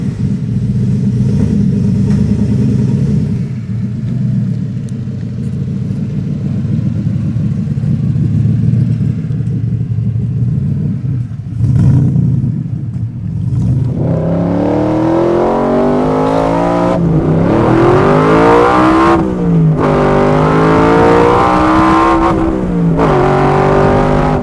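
A 1965 Shelby Cobra replica with a Coyote V8 accelerates hard, revving up through the gears to the rev limit with a deep, loud roar that climbs in pitch, pausing briefly between shifts.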